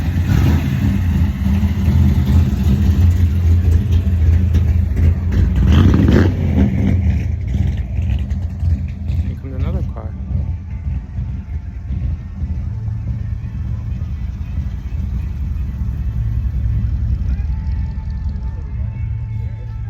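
A car passes at an outdoor car show in Robesonia, Pennsylvania, its engine a steady low rumble that swells as it drives by and then eases off, with crowd murmur in the background.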